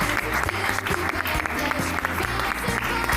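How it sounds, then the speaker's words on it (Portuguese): Audience applause for a son and grandson joining a Portuguese afternoon television talk show, dense and steady throughout with rhythmic clapping mixed with low music or voices underneath. "Um grande aplauso para o filho e para o neto que se vão juntar a nós"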